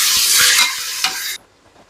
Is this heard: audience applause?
no